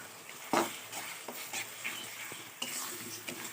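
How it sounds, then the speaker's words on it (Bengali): Spices, chili powder and turmeric, being stirred into mutton in a hot pan for biryani: scraping spoon strokes and clinks against the pan over a steady low sizzle, close by, with no talking. "দিয়ে দিচ্ছি শুকনো লঙ্কা গুঁড়ো, হলুদ। ভালো করে নাড়িয়ে নেব,"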